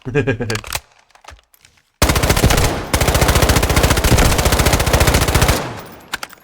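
Sustained rapid automatic fire from the MK4 gun in the shooter game Delta Force, a loud, evenly paced burst of several seconds at close range after a brief pause.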